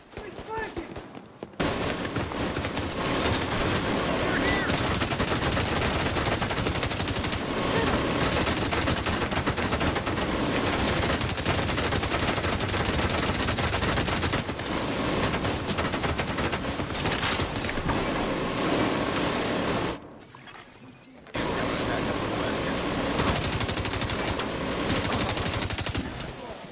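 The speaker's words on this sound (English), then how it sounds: "Heading for the minigun!" A minigun in the video game Division 2 fires a long, dense, continuous roar of rapid gunfire, loud and close, broken by a brief pause before resuming, with a shouting voice mixed into the game audio.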